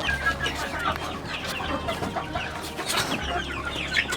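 Chickens at feeding time cluck close by in quick, overlapping bursts, several birds calling together with a low hum underneath.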